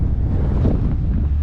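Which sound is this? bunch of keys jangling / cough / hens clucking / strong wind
strong wind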